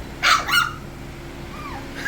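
Seven-week-old puppies let out two quick, sharp yips close by, then a faint whimpering whine trails off, with another yelp starting at the end.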